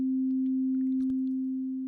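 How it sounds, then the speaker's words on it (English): A pure, steady synthesizer sine tone, switched from a sawtooth, holds at one low-mid pitch, smooth and unwavering, with a couple of faint clicks partway through. "Let me in fact change this to a sine wave."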